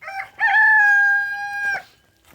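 A rooster in a central Florida food-forest yard crows once loudly and close, a single long drawn-out call with a short lead-in note, fading into quiet afterward with no talking.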